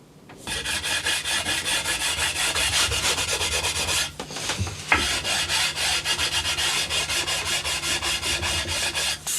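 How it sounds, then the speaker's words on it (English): Sandpaper working dried filler on a Telecaster guitar neck in rapid, steady back-and-forth strokes, close and loud, with a brief pause and reset midway before the rhythmic rasping resumes. "Just going to sand it down, see if we can get rid of all these bits"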